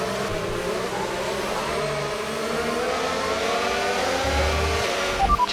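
Formula 1 race cars in the F1 25 video game accelerate at a safety car restart in Singapore, producing a continuous loud, close engine roar that holds steady throughout.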